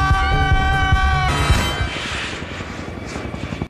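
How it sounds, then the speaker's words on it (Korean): A helicopter's rotor thumps and engine drone, fairly loud and steady, fading slightly toward the end with no voices. "이때 비행기 소리를 듣게 되는 둘"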